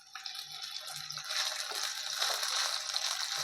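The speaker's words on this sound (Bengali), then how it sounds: "এরকম করে আস্তে আস্তে একটা একটা করে দিয়ে আমাকে ভাজতে হবে।" Paneer pieces go one at a time into hot oil, and the frying builds from light crackles to a steady close-up sizzle that continues to the end.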